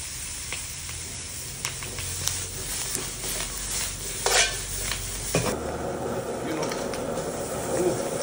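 Oil and butter sizzle in a pan before giant crabs are cooked, a close crackling hiss with scattered utensil clinks, growing into a brighter, fuller sizzle partway through, with a voice speaking at times.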